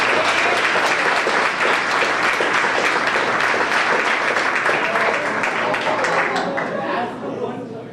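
A banquet audience claps loudly and continuously for a honoured team member, with chatter mixed in, the applause fading slightly near the end.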